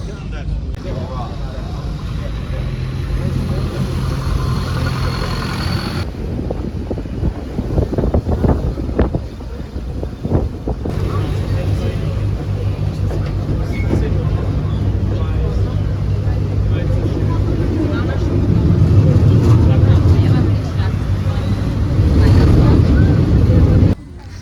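A boat engine drones steadily while wind buffets the microphone, a constant rushing roar that swells louder toward the end.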